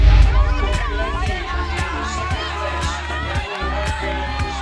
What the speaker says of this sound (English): just listen to those roars from the Dutch crowd